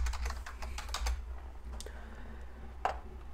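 Quick bursts of typing on a computer keyboard while entering tooltip text in Power BI, close and crisp, with a short flurry of keystrokes, a pause and a few isolated clicks.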